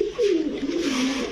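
Kasuri Kamagar pigeons with leg rings coo in a short, close, low rolling call that rises and sags over about a second, with no talking.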